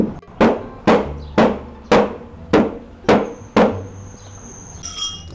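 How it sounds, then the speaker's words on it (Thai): Seven loud metallic hammer blows land at a steady pace, knocking out an Electrolux EWF 10751 washing machine drum during a bearing and seal replacement, each ringing briefly before a faint squeal at the end. "แล้วเราก็จะตอกถังออกนะครับ"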